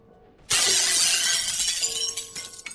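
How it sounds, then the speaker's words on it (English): Glass window shatters with a sudden loud crash that bursts in and sprays broken shards for over two seconds, tinkling pieces scattering as it fades, with no talking. "I heard the sound of glass shattering from a few rooms over."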